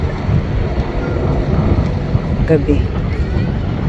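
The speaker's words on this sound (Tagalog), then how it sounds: "Lakas ng hangin." Strong wind buffeting the microphone outdoors in Chiba, Japan, a loud continuous roar with gusty low rumble, as a person speaks briefly over it.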